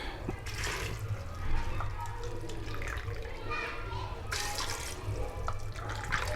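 Water is poured from a cup into an electric pressure cooker holding beans, a running, splashing trickle heard close up with faint background voices.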